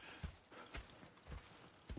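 Horses' hooves clip-clop in Red Dead Redemption 2, a series of distinct, fairly close hoof strikes in an uneven walking rhythm against a quiet background.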